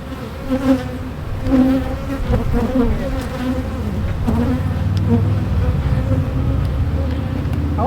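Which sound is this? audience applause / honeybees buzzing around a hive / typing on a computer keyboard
honeybees buzzing around a hive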